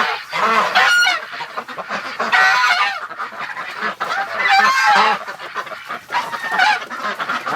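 Muscovy ducks and other waterfowl inside a barn on a freezing winter morning, giving dense, overlapping honking and quacking calls in repeated bursts, loud and close, with no talking.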